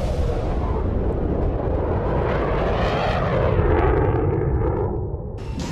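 Tank engines rumble in the World of Tanks console game, a loud, steady broadband roar that holds throughout and swells near the end before easing slightly.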